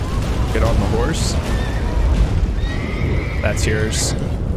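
A horse whinnies twice in The Witcher 3: Wild Hunt, with shrill rising neighs over a rumbling, noisy game soundscape, while a voice speaks faintly in the background.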